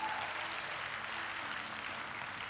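Steady, even applause from a congregation during a sermon at JCC Cijantung church, a continuous wash of many hands clapping, heard at a moderate level with no talk over it.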